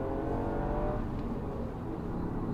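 A Toyota GR Yaris with its 257 bhp engine and all-wheel drive hums and pulls steadily while driving, a continuous low drone heard from inside with no break or rev spike.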